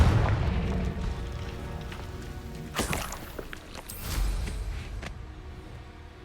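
Confringo fire spell exploding in the Hogwarts Legacy video game, a couple of sharp booming blasts rising over a steady game soundscape with rumbling effects, no talking.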